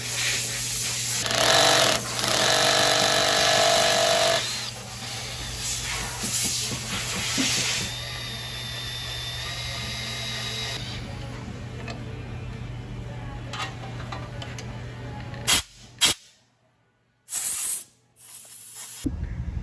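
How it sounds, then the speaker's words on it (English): A power tool reams a bore in a 4L60E automatic transmission valve body, giving a loud, harsh whirring grind that eases into a lower steady whine, then cuts out with a few short bursts near the end. No one talks. "Okay, so we got our valve body reamed out, and that's our hole down in there"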